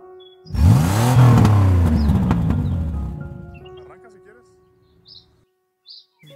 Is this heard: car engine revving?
yes